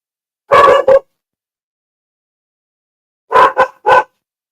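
A dog barks in two bursts, first a double bark and then a quick run of three, loud and close against near silence.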